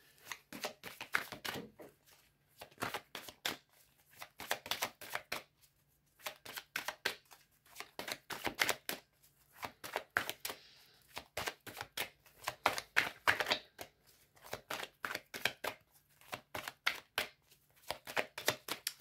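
Tarot cards are shuffled for a couples reading, a close series of rapid riffling bursts separated by brief pauses, repeating steadily throughout.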